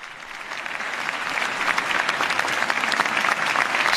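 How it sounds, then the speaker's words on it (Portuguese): Audience of dignitaries and authorities in Madrid applauds after a long papal speech by Pope Leo XIV, a dense, steady round of clapping that swells gradually from moderate to loud. "Salva de palmas,"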